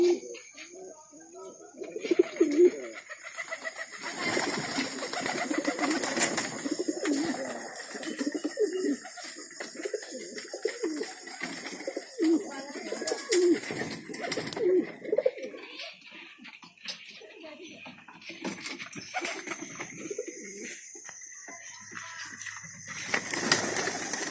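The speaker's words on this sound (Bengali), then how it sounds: "এই যে এই কবুতরটা হচ্ছে সোয়াচন্দন, উপরেরটা হচ্ছে রেসার।" Sowachandan and racer breed pigeons cooing at a pigeon farm, soft repeated low coos scattered throughout, with people talking nearby and other birds chirping faintly.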